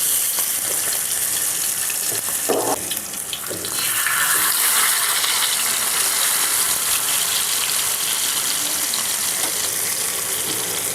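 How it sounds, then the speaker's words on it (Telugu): Fish pieces fry in hot oil in a tava, a constant loud crackling sizzle that swells slightly after a brief dip partway through. "ఆయిల్ వేడయింది. ఈ చేప ముక్కలు పెట్టుకుందాం."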